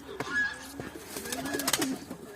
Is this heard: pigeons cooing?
yes